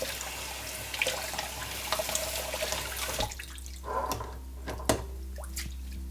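Tap water runs and splashes while horse grooming brushes are rinsed under it, a steady close gush with wet squishing and dripping as the brushes are worked.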